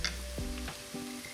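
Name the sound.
cold rice and peas frying in a pan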